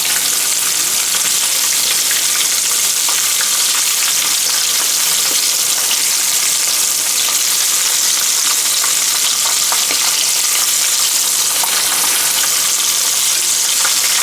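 Catfish and potatoes frying in hot grease, a dense, steady, loud sizzle that crackles continuously and fills the whole stretch without a break, heard close up and with no voices.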